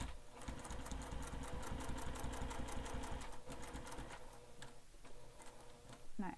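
Sewing machine stitching black thread along the bottom edge of a black vinyl wallet, a fast, even, close mechanical ticking that runs steadily, slows near the end, and finishes with a short clunk.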